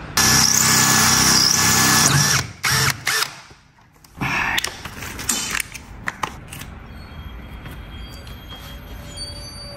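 A drill boring a hole through a sintered stone slab while water is added, a loud steady grinding whine that cuts off after about two seconds, followed by scattered knocks and clatter, then quiet tail.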